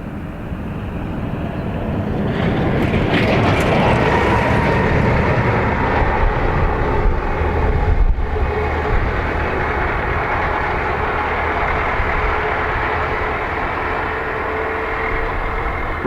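A Ryanair airliner from Frankfurt Hahn lands at Dublin Airport, its broad jet roar swelling after a couple of seconds and then holding loud and sustained as it passes close by.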